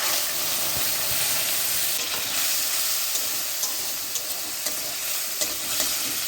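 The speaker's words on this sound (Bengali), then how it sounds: "এরপর ফোড়নের জন্য জিরে, শুকনো লঙ্কা, তেজপাতা ফোড়ন দিয়ে দিলাম" Cumin seeds, dry red chillies and bay leaves crackle in hot oil as a tempering for bottle gourd dal. A loud, continuous sizzle carries scattered small pops and a few spoon taps against the pan.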